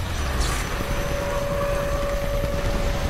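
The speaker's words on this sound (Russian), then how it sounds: "Вертолет сбит! Он падает!" A helicopter in the video game Homefront drones overhead with a steady, loud rotor and engine roar, unbroken for a few seconds and heard alone without talk.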